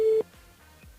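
Telephone line tone for a call being placed to a radio station switchboard: a short steady beep, then a faint repeating low tone pattern, with no voices.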